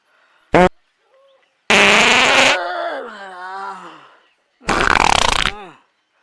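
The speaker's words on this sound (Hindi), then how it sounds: "का पादत रहे" Loud, close fart bursts in an Awadhi comedy sketch: a short pop, then a long drawn-out groaning blast trailing off, and a final rough burst, with no speech.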